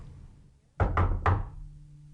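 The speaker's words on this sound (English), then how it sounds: "there was a knock at my door." Three sharp knocks strike a door, two quick raps and then a third after a brief pause, close and solid against a quiet room.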